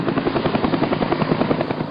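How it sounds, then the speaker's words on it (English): A helicopter flying in, its rotor beating in a steady, rapid rhythmic thump that stays loud and close for the whole moment, with no voices over it. "That was one of our only salvations, helicopters."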